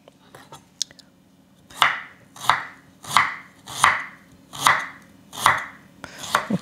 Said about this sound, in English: So I'm just going to slice it into maybe 1/4-inch pieces.